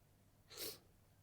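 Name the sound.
sneeze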